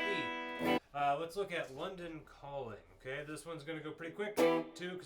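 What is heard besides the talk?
No everyday noises stand out.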